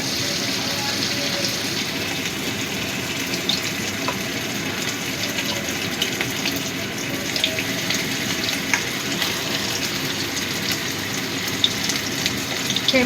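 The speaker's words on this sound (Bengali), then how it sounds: "তেলটা ভালো মতো গরম হয়ে গেছে। এবার আমি চিকেনগুলো দিয়ে দিচ্ছি।" Chicken pieces hit hot oil for pakora-style frying, a steady dense crackling sizzle holding level and fairly loud throughout, with a few sharper pops breaking through.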